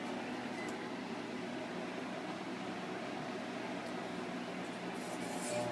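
A microwave oven hums steadily with a fan-like whir while a ball of plasma forms inside, a constant mid-level drone with faint crackling hiss toward the end.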